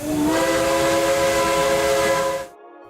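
A steam train whistle from a VR zombie shooter game sounds as one loud, sustained, harmonic blast lasting over two seconds, then cuts off abruptly into quiet.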